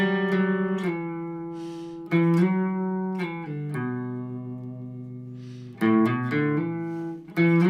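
An electric guitar with distortion plays a slow riff of ringing, sustained notes that slide between pitches, with a gritty edge and gaps between phrases.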